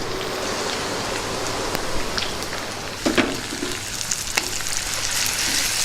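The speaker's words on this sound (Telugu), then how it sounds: "పచ్చిమిర్చి ఉల్లిపాయలు వేగడానికి ఒక రెండు నిమిషాలు టైం పడుతుంది" Green chillies and onions with turmeric and curry leaves frying in oil for an amaranthus dal curry, a continuous crackling sizzle with a few sharp pops and stirring scrapes up close.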